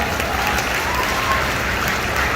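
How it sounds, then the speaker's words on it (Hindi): An audience at a lifestyle business event claps in a dense, continuous patter, sounding fairly close and steady throughout the short stretch. "अश्विनी शर्मा जी के लिए जोरदार तालियां"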